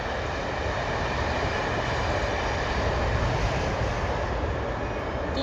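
A vintage train with Pullman carriages rolls past close by, a loud, continuous broadband rumble and rush of wheels and wagons that holds steady throughout, with no talk over it.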